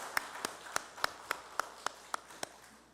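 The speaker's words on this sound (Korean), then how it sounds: "우리 박수 한번 하시겠습니다" Clapping from a church congregation at a special early-morning prayer service: about ten sharp, evenly spaced claps in a steady rhythm, fairly faint and slightly distant, with no talking over them.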